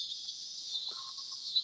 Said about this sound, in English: It was like the cicadas.